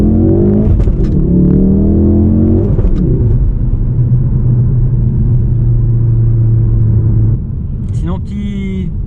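A 2016 Ford Focus RS with the Performance pack drives gently along small wet country roads. Its engine drones steadily and changes pitch now and then, heard from inside the car beneath someone talking.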